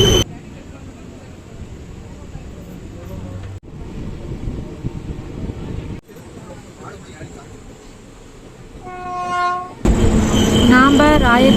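A train pulls into a small halt station in the evening: a loud continuous rumble of wheels and carriages, then a long, strong horn blast near the end.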